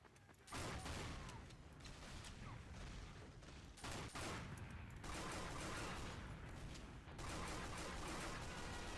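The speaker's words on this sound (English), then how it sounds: "I am shocked I hit as many pistol shots as I did." Rapid pistol gunshots in the video game Team Fortress 2, dense and loud, firing in continuous bursts with brief breaks between volleys.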